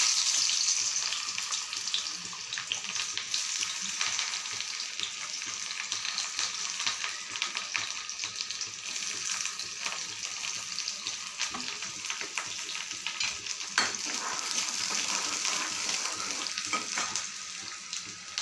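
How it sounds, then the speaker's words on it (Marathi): Onion sizzles in hot oil in a kadhai, a continuous dense frying hiss with occasional stirring, steady and close throughout. "त्या कढईमध्ये तेल टाकलं तर कांदा टाकते"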